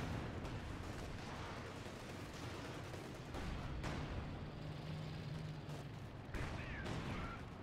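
Artillery strike in a Company of Heroes 4v4 match: dense, continuous rumbling barrage of overlapping booms and crackling blasts, loud and unbroken across the whole stretch with a few sharper impacts.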